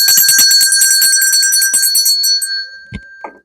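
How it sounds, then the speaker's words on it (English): Rapid, bright ringing of small bells in a dense jangling cluster, fading out near the end with a couple of dull knocks. "this is where we ring the bells of hope."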